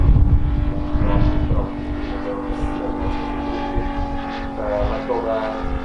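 The 150 cc MOKI radial engine of a 1:4 scale RC Grumman F4F Wildcat model airplane drones steadily with a loud, sustained hum, while someone talks over it.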